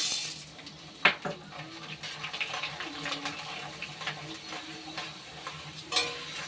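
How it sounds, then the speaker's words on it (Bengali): Large sago pearls fry a little at a time in hot white oil in a kadai (wok) for a chanachur snack. A steady, moderate sizzle runs throughout, with occasional sharp utensil clinks and no voices. "এবার এর মধ্যে অল্প অল্প করে সাবুটা ভেজে নেব, সবটা একবারে দেব না।"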